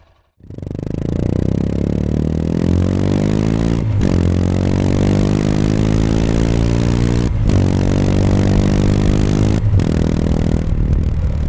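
Overhauled Yamaha Serow 250 single-cylinder motorcycle with about 100,000 km, on a test ride: the engine revs up loudly and repeatedly, rising in pitch through each gear with brief dips at three shifts, heard up close and alone.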